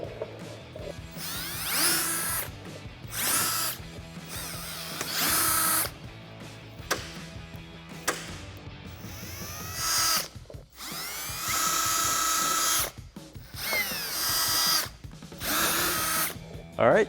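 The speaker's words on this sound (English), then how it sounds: "I'm gonna go back and drill holes in the rest of the ones that we did on the table" A power drill whirs in repeated bursts, starting and stopping as it bores into material, with short pauses between each run.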